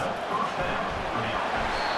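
A football stadium crowd at a Michigan State versus Michigan rivalry game roars in a dense, sustained wash of noise that stays loud and unbroken throughout, with no individual voice standing out.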